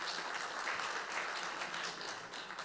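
Audience applause fills a hall at a founding ceremony for a memorial society honouring independence activist Gye Yeon-su, a dense, steady clatter of many hands at moderate distance lasting throughout.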